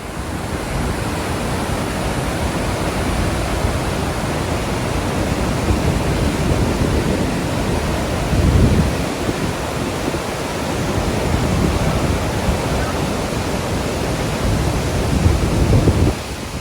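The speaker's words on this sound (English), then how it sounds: "Here, the sound of the water is deafening." Montmorency Falls roars as a dense, constant wall of rushing water heard close from an observation deck, loud and unbroken from start to finish.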